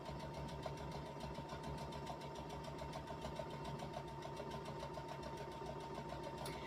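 A sewing machine runs a normal straight stitch along quilting lines on a Christmas stocking, its steady, fast mechanical whir continuing without pause and sounding close.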